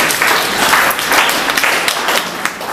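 An audience at a business presentation in Uganda breaks into loud, sustained applause, with many hands clapping at once and a slight fade near the end.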